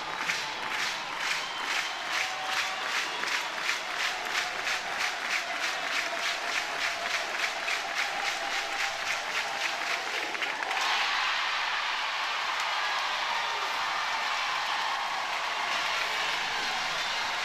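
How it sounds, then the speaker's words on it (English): A stadium crowd at a college softball game between Oklahoma and Alabama at Love's builds into sustained cheering and rhythmic clapping, a broad steady roar that swells and then holds at full volume with no talk over it. "the crowd should get a little louder here at Love's"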